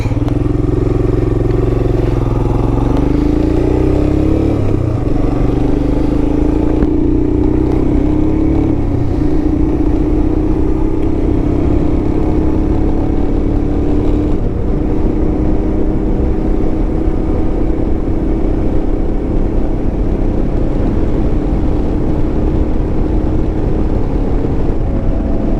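Royal Enfield Himalayan motorcycle riding on twisty mountain roads, a steady engine drone with a thin, continuous whine from the front tire running close and loud throughout, no talk.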